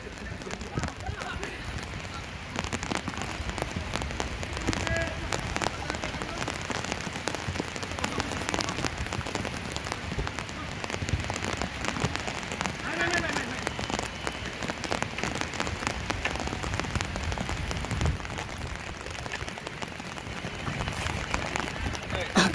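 Steady, dense rainfall pattering on a surface throughout, loud and continuous, with faint voices now and then underneath.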